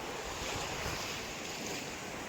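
Open sea around Dwarka gives a steady, unbroken wash of surging water mixed with strong wind rushing over the microphone, with no voices.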